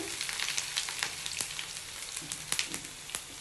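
Garlic and dried red chillies frying in oil for sambar, a steady fine sizzle with scattered crackles and pops.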